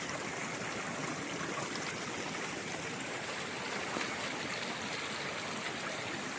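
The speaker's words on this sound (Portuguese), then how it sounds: "Vendo ali a água descendo pelas rochas, água cristalina" Crystal-clear stream water running down over rocks along a trail in the Serra do Mar, a steady, close, full rushing and trickling wash that continues evenly without pause, with no voices.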